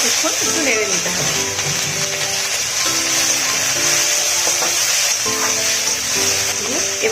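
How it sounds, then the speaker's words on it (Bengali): Chopped tomato and capsicum fry in a pan, a constant close sizzle cut by repeated scraping stir strokes, while a voice talks over the cooking. "এবার টমেটো কুচিটা দিয়ে দিচ্ছি। বেশ কিছুক্ষণ একটু নেড়ে নিতে হবে।"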